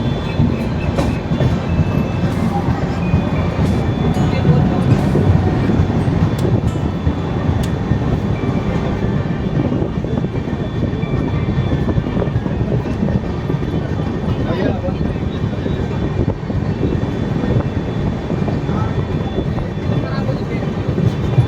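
The Sealdah–New Delhi Rajdhani Express pulls out of Durgapur station, heard from inside a 2nd AC coach as a continuous, loud rolling rumble with a soft clickety-clack of the wheels that holds steady throughout.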